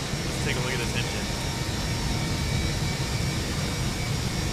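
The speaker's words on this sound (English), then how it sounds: "Beautiful jet engine getting started up." A jet airliner engine spooling up in a flight simulator game, heard as a steady loud rumbling roar with a high whine running underneath. It stays constant through the clip, and someone talks over it.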